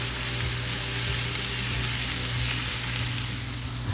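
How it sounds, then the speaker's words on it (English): A large yellow onion sautes in a big soup pot, giving a steady, close sizzle and crackle that holds constant throughout with a low hum beneath and no voices. "in our large pot, we're going to add in our large yellow onion, and we're just going to saute this for a few minutes"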